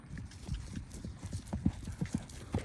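Hoofbeats from a six-year-old Quarter Horse gelding loping circles, soft rhythmic thuds on a dirt arena with a steady rolling three-beat pattern, moderately near.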